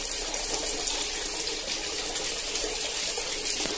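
Handmade cajuína streams steadily into a small bottle at an artisanal workshop in Santo Antônio de Lisboa, Piauí, a continuous close liquid gush with no talk.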